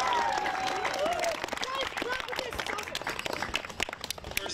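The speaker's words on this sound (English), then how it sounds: "big round of applause to the American League team" Scattered applause and cheering for a youth AA baseball team at a season-end gathering, quiet and somewhat distant, mixed with children's voices and chatter.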